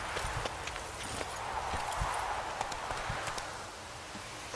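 A horse's hooves clip-clop at a steady trot in The Witcher 3, heard at moderate distance under a rustling, windy outdoor game ambience.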